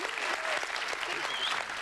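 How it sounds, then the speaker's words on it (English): Studio audience at a 1981 TV game show gives a contestant a brisk, dense round of applause, loud and continuous, with a voice speaking over the clapping. "Give Libby Roberts a round of applause."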